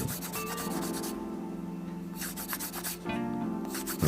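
Metal file rubbing against a tiny chain for a Tamiya 1/35 Type 10 tank model, a steady close scraping rasp that pauses briefly midway and then resumes.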